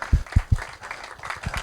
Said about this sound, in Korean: 괜찮으시면 박수 한번 쳐주시겠어요?